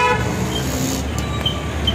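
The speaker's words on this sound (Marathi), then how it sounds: "काय एवढे हॉर्न वाजवले बे" Vehicle horns toot in short, sharp bursts at a busy Pune bus stand, close and loud over a rumbling bed of idling engines and traffic.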